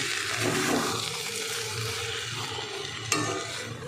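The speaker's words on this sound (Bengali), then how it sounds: "কাজু কিশমিশ দিয়ে দিলাম, এবার মিশিয়ে দেব।" Red pulao with cashews and raisins is stirred in a pan, a steady soft scraping and gentle sizzle running throughout, with one brief clink of a utensil near the end and no voices.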